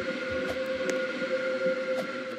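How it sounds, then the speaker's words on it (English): A train pulls into a platform in the Roblox railway game Stepford County Railway, a steady mechanical rumble with a sustained tonal hum, a few faint clicks over it, moderately loud and continuous. "The train now approaching platform 4 terminates here."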